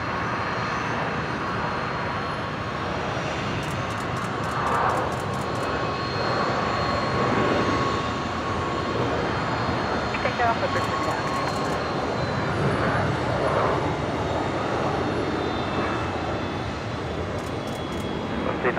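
A fixed-wing airliner on approach to runway 01 right at Brisbane Airport, a steady broad engine roar holding fairly level throughout at moderate distance, with faint clicking bursts over it.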